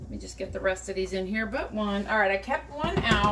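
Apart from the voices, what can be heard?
No everyday noises stand out.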